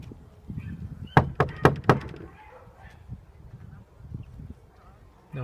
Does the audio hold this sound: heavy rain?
no